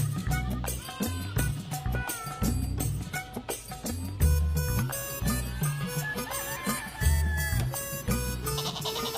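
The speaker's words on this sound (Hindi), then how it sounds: "देखो कितनी सुंदर और बली बकरी है।" A white goat in an animated Hindi comedy story bleats repeatedly. The bleats are loud and wavering and sit over a busy, rhythmic music track that runs throughout.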